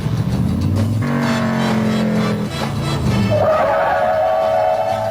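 A 1971 Oldsmobile 442 W30 convertible brakes hard from 30 mph over a steady engine roar, its tires squealing briefly before it comes to a stop.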